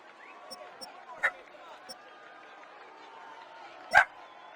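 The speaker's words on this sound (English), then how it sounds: "Sorry for the dog, guys." A dog barks in the background of a quiet room, two sharp isolated barks a few seconds apart, the second louder, with a few faint yips between them.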